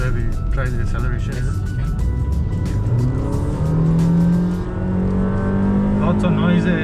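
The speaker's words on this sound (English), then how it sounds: "So this is where we try the acceleration." Honda City Hatchback accelerating hard on Sepang International Circuit, heard from inside as a loud, steady engine drone that climbs in pitch, with people talking over it.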